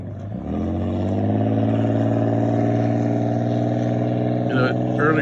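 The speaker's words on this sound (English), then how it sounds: "the engine has to blow the exhaust water out of that low spot in the exhaust pipe" A boat engine idles and runs steadily with a rough, throbbing rumble, clearing exhaust water out of a low spot in its exhaust pipe, with a brief clatter near the end.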